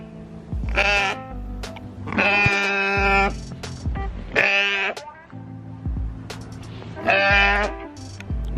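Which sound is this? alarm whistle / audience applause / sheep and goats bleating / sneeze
sheep and goats bleating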